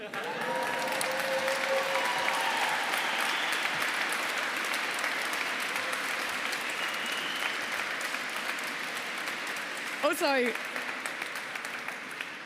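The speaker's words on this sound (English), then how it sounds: "I really appreciate these rounds of applause." A large audience applauds at length inside Canterbury Cathedral during an honorary graduation speech, dense sustained clapping echoing in the vast stone space, with a brief voice near the end.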